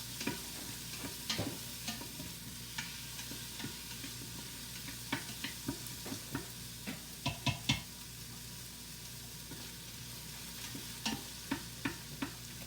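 Food sizzles steadily in a very hot pot while a utensil taps and scrapes the bottom in frequent irregular knocks during stirring, the frying hiss constant underneath.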